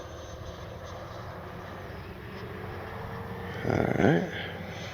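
An E-flite Viper 90mm model jet flies past with its afterburner. A steady roar swells into a brief, louder whooshing pass near the end, and a voice speaks briefly.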